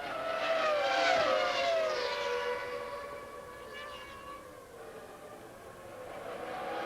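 1996 Formula 1 race cars at speed, a high engine whine that rises and fades as cars pass, with faint commentary beneath the roar.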